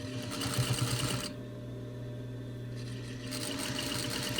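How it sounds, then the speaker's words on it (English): A sewing machine stitches a face mask seam in a fast, close, rhythmic whir, pausing briefly midway before running again. "stitch as close to the edge as possible to leave the least bulk and the most comfort"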